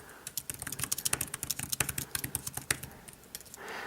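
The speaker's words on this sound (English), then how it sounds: "and I can start typing." Rapid, light clicking of keys on a Belkin keyboard case for an iPad, an irregular patter of close, crisp taps that slows near the end.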